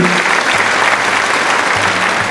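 A quiz show audience gives a contestant a round of applause, a loud, continuous roar of many hands clapping close by, steady from start to finish with no talking.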